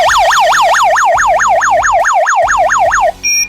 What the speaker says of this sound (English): Zone 1 alarm.